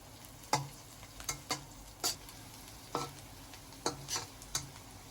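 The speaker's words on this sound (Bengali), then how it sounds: "এরপর পেঁয়াজের সাথে কাঁচামরিচটাকেও খুব ভালোভাবে ভেজে নেব।" Chopped onion and green chili fry in a pan with a steady soft sizzle, broken by a series of sharp scraping stirs at irregular intervals, close and fairly quiet, with no talking.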